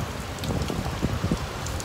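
Torrential rain pours down in Bangkok, heard from shelter beneath the steps of the BTS Skytrain, a dense, steady hiss of heavy downpour with scattered louder splashes throughout.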